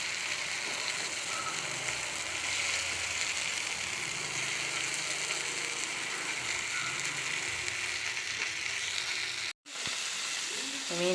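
Spicy dam fish fries in hot oil with a dense, continuous crackling sizzle, loud and close, broken only by a brief cut near the end.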